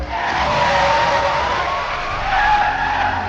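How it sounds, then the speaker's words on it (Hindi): A car brakes hard to a sudden stop on a highway, tires skidding and squealing in one loud, sustained screech lasting a few seconds, close and alone without talk. "दलबीर ने गाड़ी रोकी"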